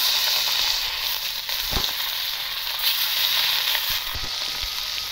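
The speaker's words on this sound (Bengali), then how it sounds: "আমি এক এক করে মাছটা দিয়ে দেবো।" Rohu fish pieces frying in hot oil in a wok, a loud steady close sizzle and hiss with scattered crackles and a couple of sharp pops or spatula knocks.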